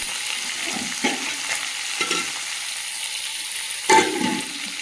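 Okra and potato pieces sizzling steadily in a pan of hot oil, with several clattering stirs of a spatula punctuating the frying, one louder scrape near the end.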